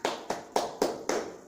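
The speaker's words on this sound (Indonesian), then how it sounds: "beri tepuk tangan untuk Ronald" Scattered classroom applause from students clapping for a classmate named Ronald, heard as five separate close bursts of hand claps in an uneven rhythm, each fading quickly.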